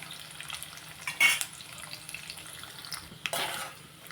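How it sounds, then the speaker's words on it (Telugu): Raw coconut pieces frying in a pan for sweet chakkara pongali, a soft crackling sizzle with two louder bursts of spattering and stirring. "బాగా వేపుకోవాలన్నమాట అండి ఈ గోల్డెన్ కలర్ వచ్చే వరకు పచ్చి కొబ్బరి ముక్కలు"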